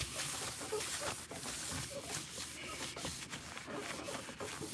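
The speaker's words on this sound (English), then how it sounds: "Let's try to wipe back some of it before we go." Soft, steady rubbing as a cloth wipes excess stain off a wooden guitar body, a quiet continuous scrubbing texture with faint strokes and no talk.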